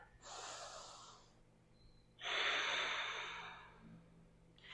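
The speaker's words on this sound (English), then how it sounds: "Take a big expansive breath in here." A deep, expansive inhale during a vinyasa yoga pose, two soft airy breaths heard close and quiet, the second fuller and longer than the first.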